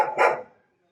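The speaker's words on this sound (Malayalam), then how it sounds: "വർക്കിന് ആള് വന്നതിന്റെ കുരയാണേ." A single sharp bark from a house dog, loud and close, set off by a worker arriving at the home, fading quickly into silence.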